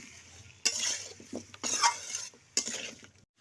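Potato pieces fry in a pan with salt and turmeric for a beef tongue dish, heard as three sharp bursts of stirring and sizzling with a spatula scraping the pan, separated by quieter frying, up close.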